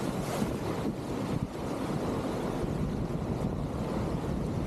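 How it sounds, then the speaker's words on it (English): A canoe runs whitewater on a Maine river approaching a drop at Robbins Mill Bridge, with a dense, constant roar of rushing rapids and wind buffeting close to the microphone. "you're just starting to get a few waves leading up to the main drop at the Robbins Mill Bridge"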